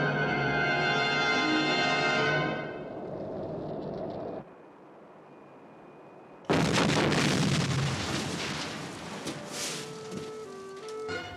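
A low-budget film sound effect of a spaceship departing and the Earth exploding: a steady harmonic whine fades, a short near-silence follows, then a loud, sustained rumbling blast erupts and slowly settles.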